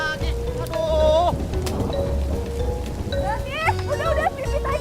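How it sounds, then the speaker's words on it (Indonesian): Rain falls on a rooftop, a steady wash of patter under short, faint bursts of chirpy tonal sounds, with a low rumble beneath throughout. "baru juga panas, udah dikasih hujan lagi"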